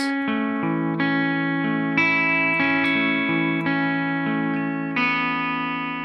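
Electric guitar picks out a chord one string at a time, starting on the third string, notes ringing into each other with a slightly driven, effected tone, steady and close.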